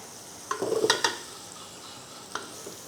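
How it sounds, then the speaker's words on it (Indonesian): Onions being stir-fried in a pan for Hainanese chicken, a few quick scraping stirs with a soft sizzle, then quiet with one more brief clatter. "Kita tumis-tumis sampai wangi ya"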